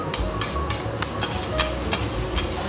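Bacon sizzling in a hot, lightly oiled pan on a gas stove for kimchi fried rice, a steady crackling fry with several sharp utensil scrapes and taps.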